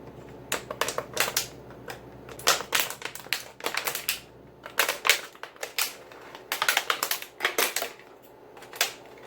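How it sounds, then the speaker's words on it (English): Sharp scissors snip through a plastic water bottle about three-quarters of the way up, giving a series of close, crisp crunching cuts in quick irregular bursts with short pauses between. "Scissors cut it really easy."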